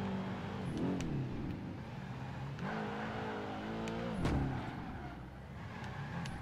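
A GT1 race car from the game Project Gotham Racing 2, a Mercedes CLK GTR, its engine revving and shifting through rising and falling pitches as it drives, loud and steady with no talk.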